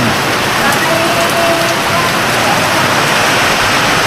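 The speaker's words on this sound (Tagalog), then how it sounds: "Napakalakas ng ulan." Heavy rain pours down steadily in a dense, loud roar that stays constant throughout.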